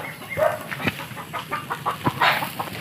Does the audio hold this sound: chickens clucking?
yes